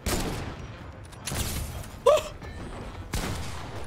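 Flint Knock Pistol fire in Fortnite: heavy single booming shots, four of them spaced about a second apart, loud and close.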